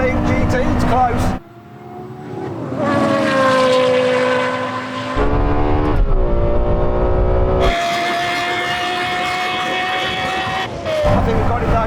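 A Porsche Carrera GT V10 accelerates hard in a drag race against a Lexus LFA, its loud, high engine note rising through the revs with abrupt breaks at gear changes, while someone talks over it.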